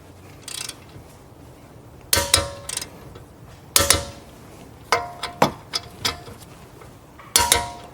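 Ratcheting clicks from a torque wrench tightening a brake caliper bolt on a Mercedes-Benz S550 front brake, heard as several close bursts of rapid mechanical clicks separated by short pauses.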